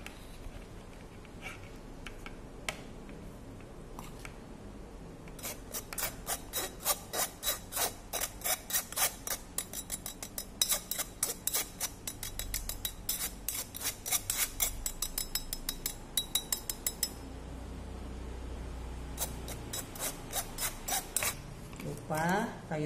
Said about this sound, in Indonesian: Masukin terigunya sedikit-sedikit sambil kita ayak ya.